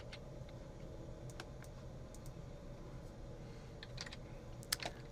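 Quiet, steady clicking of keys on a computer keyboard, with scattered soft keystrokes over a low background hum and one slightly louder tap near the end.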